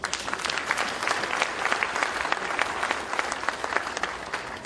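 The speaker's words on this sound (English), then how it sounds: "I think they deserve a very warm round of applause" An audience gives the panel at a session's close a warm round of applause: dense, steady clapping from many hands throughout, moderately close and even, with no voices over it.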